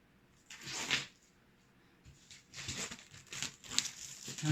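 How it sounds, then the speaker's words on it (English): Plastic shrink wrap being cut with a craft knife and ripped off a board game box, crinkly tearing bursts in two main stretches separated by a quiet pause, close and clear. "We all love the sound of ripping plastic, don't we?"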